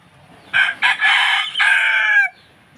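A rooster crows close by, one full loud call with a couple of breaks, rising and trailing off over about two seconds.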